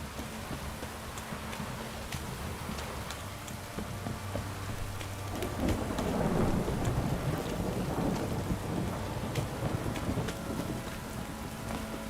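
Steady rain falls with rolling thunder in The Witcher 3: Wild Hunt, a continuous wet hiss under low rumbles that swell loudest midway, with no voices.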